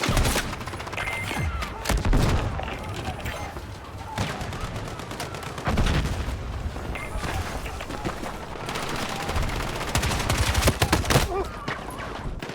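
Hipfire from a TR-7 gun in a video game: dense bursts of rapid automatic shots with booming impacts and explosions, loud and continuous, with a voice talking over parts of it.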